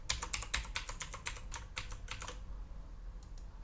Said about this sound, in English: Now I will have to enter my password again.